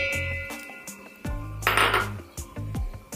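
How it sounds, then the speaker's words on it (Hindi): Cut, peeled papaya pieces dropped into a blender jar for a summer shake, a few separate close thuds and clinks against the jar with small clatters in between, no voices. "और अब हम इसमें पपाया डालेंगे"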